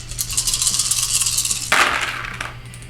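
Plastic dice rolled for attack and defense in a Massive Darkness tabletop board game session, a rattling clatter that sharpens into a bright tumble across the table midway, then settles.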